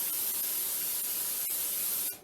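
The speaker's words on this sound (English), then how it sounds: "So you can give it a liberal spray," Cooking spray hisses steadily from a can into a hot frying pan for about two seconds, close and continuous, ending abruptly.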